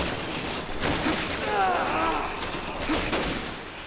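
Gunfire from the video game Resident Evil 6 in bursts over continuous game noise and effects, with someone talking throughout.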